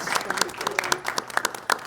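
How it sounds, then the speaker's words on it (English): An audience at a property management talk claps for the panelists in brief, scattered applause of separate hand claps close by, with voices heard over it. "Let's give everyone a round of applause."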